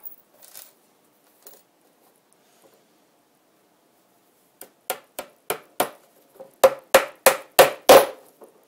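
Short 3/4 inch nails are driven into a wooden beehive bottom board with a hammer: a few quiet taps, then a pause, then a run of about twelve sharp, close blows that grow louder toward the end, with no talking.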